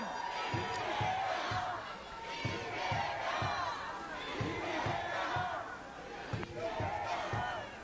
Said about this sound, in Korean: 이재명 대통령 후보의 연설 큰 함성으로 들어보겠습니다.